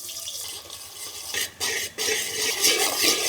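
Chopped onions go into a hot pan for a chicken and roasted mango curry, followed by scraping stirs of a utensil against metal over a rising sizzle, with brief pauses between strokes.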